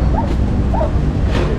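Dogs give a couple of short, thin yips amid loud, noisy street ambience during an MMDA clearing operation, the barks fairly faint against the background rumble.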